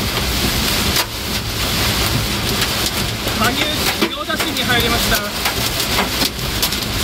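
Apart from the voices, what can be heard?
heavy rain and hail pounding a car windshield in a storm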